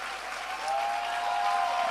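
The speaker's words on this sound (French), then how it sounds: "On peut l'applaudir chaleureusement." Warm audience applause for a guest who has just stood up on stage, a continuous soft patter of clapping over two seconds with a faint tonal hum running underneath.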